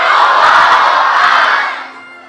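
Large youth crowd in a mosque in Bandung roaring a takbir together, a loud sustained massed shout that holds for about two seconds before fading out.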